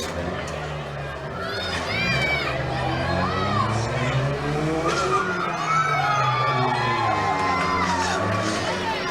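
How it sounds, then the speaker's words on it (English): Demolition derby cars idle and rev through their exhaust pipes at a fairground track, a continuous low engine rumble under crowd cheering, children shouting and an announcer's talk, with rising and falling revs throughout. "Motors running through exhaust pipes."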